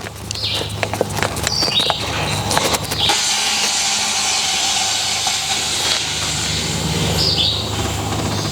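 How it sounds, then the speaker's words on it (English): A steady, loud gas hiss from a CO2 cartridge inflating a RZR side-by-side tire, preceded by a few seconds of clicking and fiddling with the chuck. "you'll be able to see as this tire inflates from these cartridges"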